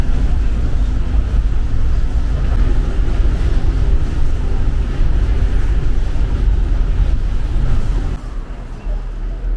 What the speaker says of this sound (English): Riding on the monorail.